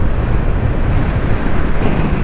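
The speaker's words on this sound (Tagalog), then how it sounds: "maramdaman natin yung bugso-bugso ng hangin." Steady, roaring typhoon wind buffets the microphone, with broad rushing noise and gusty surges throughout and no voices.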